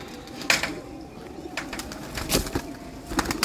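Sialkoti flying pigeons in a rooftop loft coo softly amid scattered short rustles and knocks, fairly close, with no voices.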